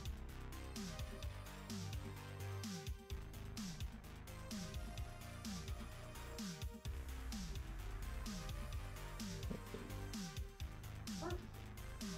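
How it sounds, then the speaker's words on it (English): A dog barks and yips repeatedly in quick bursts, with some whimpering mixed in, heard over a busy, cluttered background. "Why is the doggo barking at the door?"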